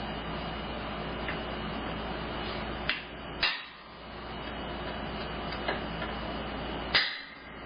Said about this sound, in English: So I'm going to try with a punch and a hammer.